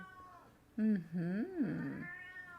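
A house cat gives a drawn-out, wavering meow of about a second and a half, close and clear, in a quiet indoor room.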